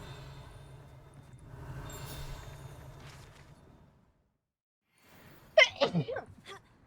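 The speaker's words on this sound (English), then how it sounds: "And I just sneezed all over my arm." A single sharp sneeze breaks in near the mic after a stretch of soft rustling and a brief silence, followed by a few quick trailing bursts of breath.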